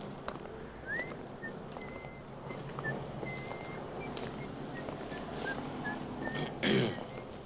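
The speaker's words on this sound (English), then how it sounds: "instantly recognizable as the tune to the children's nursery rhyme, This Old Man" Someone whistles the nursery rhyme tune This Old Man, a thin wavering melody of short notes drifting over a noisy background with traffic-like rumble, fairly faint and without speech.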